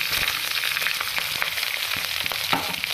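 Sabudana khichdi fries with a steady, dense sizzle in a close pan as cooked potato slices go in, soft spoon knocks scattered through and no voice.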